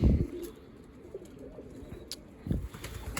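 Pigeons coo in low, soft murmurs at the end of moulting season, a couple of louder bursts at the start and midway, with quieter cooing between, fairly close.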